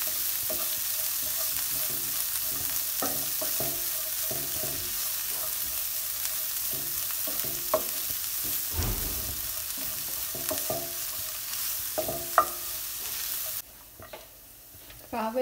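Cabbage and mixed leaves for a leaf thoran sizzle and crackle in a small pan, a steady frying hiss broken by repeated spatula scrapes and stirs, close up with no talking.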